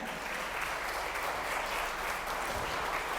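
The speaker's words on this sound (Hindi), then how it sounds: "जोरदार तालियों के साथ स्वागत करेंगे हम आज के चीफ गेस्ट ऑफ ऑनर" A crowd claps steadily to welcome the chief guest of honour at a motivational talk event, a dense, even wash of applause lasting the whole stretch with no voices over it.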